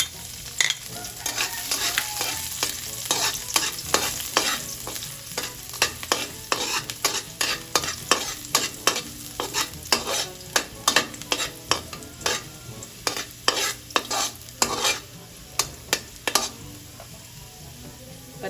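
Ginger and garlic sautéing in a pan for fish adobo with galunggong, a steady low sizzle broken by many sharp scraping stirs of a utensil against the pan, close and alone without talk.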